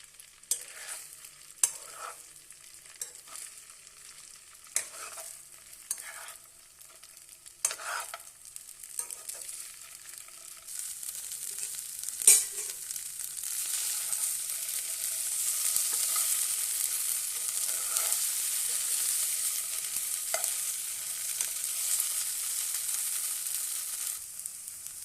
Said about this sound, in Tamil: இதில் இந்த இட்லியை நம்ம சேர்த்து அப்படியே வறுத்து எடுக்க போகிறோம்.